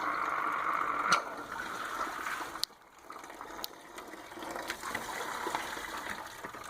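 Coolant draining from the radiator of a Toyota MK3 Supra, a close gushing flow with audible suction that briefly drops away, then returns as a splashing, gurgling trickle.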